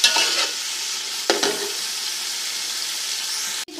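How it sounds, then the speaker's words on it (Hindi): A spoon stirs fat and tomatoes in a hot pan, a soft steady sizzle with a few scraping strokes near the start and middle, close and moderately quiet with no talking. "थोड़ा सा चम्मच हिलाएंगे, चर्बी थोड़ी सी मेल्ट हो जाएगी इसमें।"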